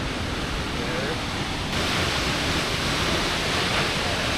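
Havasupai waterfall roars as a steady broadband rush seen from the top viewpoint above the campground, loud and continuous with faint wind buffeting the microphone.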